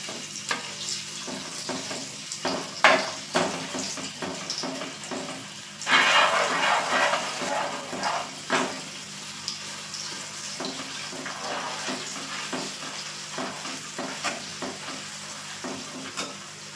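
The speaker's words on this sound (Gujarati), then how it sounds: "ચીઝ એડ કરી આપણે એને બરાબર આ રીતે મિક્સ કરી લેશું" Cheese is stirred into Surat-style cheese paneer ghotala cooking in a pan. Irregular scraping and stirring strokes sound over a light sizzle, with a louder burst of frying about a third of the way through.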